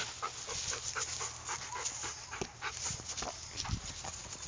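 A dog pants rapidly and steadily close by, with short breathy huffs and occasional faint whimpers, heard indoors without talk.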